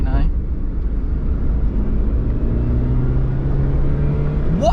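A Ford Ka accelerates from inside the cabin, a steady engine drone with a rising tone, while speech is heard at moments over the rumble.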